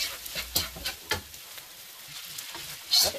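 Chicken mushroom fried rice stirred in a hot sizzling pan, with a steady fry hiss under a series of spatula scrapes and stirs, then a sharper bright clatter near the end.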